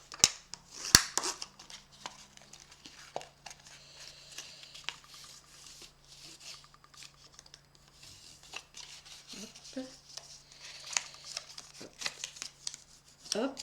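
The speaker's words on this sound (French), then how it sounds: "je fais tous mes plis" Paper is folded and creased by hand while making a gift box, with soft crinkles, rubs and sharp creasing snaps in irregular bursts, close and quiet, under occasional speech.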